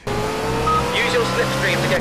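Racing video game car engine, a sustained engine drone with shifting pitch and a few tire squeal-like swoops, loud and continuous, with a voice talking over it.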